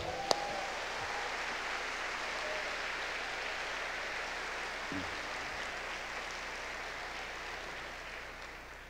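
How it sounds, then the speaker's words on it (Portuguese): A church congregation applauds steadily through a Portuguese-language sermon service, a dense, even wash of clapping from many hands that holds at full strength and only slightly eases toward the end. "Então aplauda ao Senhor."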